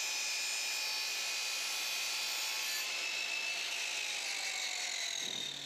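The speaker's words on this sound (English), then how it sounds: "Then saw a skirting board in mitre." A handsaw cuts a wooden skirting board at a mitre angle, a steady continuous rasping of the blade through the wood, close by and alone throughout without speech.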